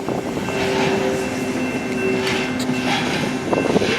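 A heavy freight train rolls through the Tehachapi Loop with a continuous loud rumble. Sustained wheel squeals and tonal whines rise over it, and rail clatter grows toward the end.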